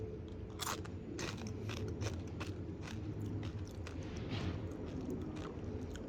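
Crisp, salty corn snack from a 2017 US cold-weather MRE crunched close to the mic, a steady run of bites and chewing with no talking.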